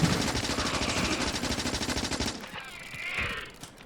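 Rapid submachine gun fire in Factorio, a steady stream of quick rhythmic shots lasting over two seconds before cutting off, followed by a brief softer burst and faint background tones.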